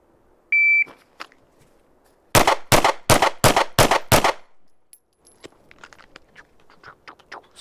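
A Taurus GX4 pistol fired rapidly at a range after a timer beep: six sharp, evenly spaced shots ring loud and close, followed by quieter clatter and movement.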